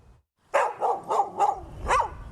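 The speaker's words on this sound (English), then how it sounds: "4-year-old Shep arrived here over 300 days ago and is living at Oakwood Dog Rescue" A four-year-old rescue dog at Oakwood Dog Rescue barks five times in a quick, fairly even series, close and clear, after a brief quiet moment.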